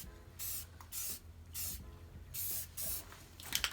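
Spray paint being applied to a drift trike part for a 212cc build, five short bursts of hissing spray separated by brief pauses, fairly close but not very loud.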